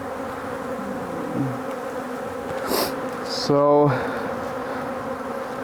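Honeybees hum steadily around an open beehive during a shake-out and split, with a louder buzz passing close by near the end and a single spoken word.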